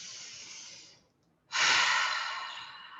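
Close, clear breath during a guided relaxation session: a long airy inhale fades into a brief silence, then a fuller, louder exhale pushed out through the mouth slowly trails away.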